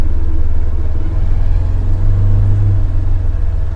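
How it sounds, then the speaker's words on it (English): A Polaris Ranger XD 1500 Northstar UTV driving, a heavy, steady engine rumble with a faint transmission whine running beneath it throughout. "There's a little whine in the transmission."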